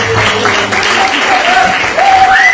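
An audience stands and claps in steady, dense applause that fills the room, with a voice talking or calling out over it.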